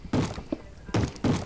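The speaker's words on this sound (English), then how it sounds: "Okay, whatever is knocking," Knocking in a Technic-modpack Minecraft world: a few dull, hollow thunks, an irregular series of knocks at moderate loudness against a quiet background.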